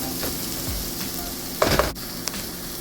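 Garlic sizzles and fries in a pan while cabbage is being prepared, a steady crackling hiss with a few louder spatters and stirring clicks near the middle.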